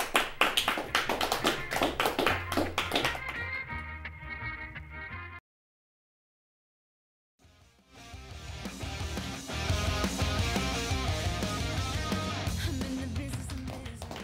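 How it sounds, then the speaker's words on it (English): Studio audience applause on a late-night talk show, dense clapping mixed with music, breaking off into a short silence and then resuming as a loud, sustained wash of clapping over music. "I love the applause."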